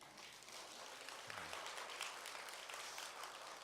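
Congregation applause during a combined men's fellowship church service: steady, dense clapping from a crowd that holds at an even level for several seconds. A brief low voice sounds underneath partway through.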